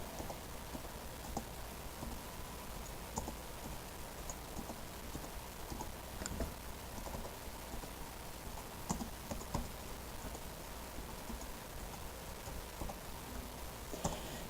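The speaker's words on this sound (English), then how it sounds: "I'm typing in to a friend to try to get him to watch my show." Light, irregular tapping of a computer keyboard, soft and close, with scattered keystroke clicks over a quiet background and no talking.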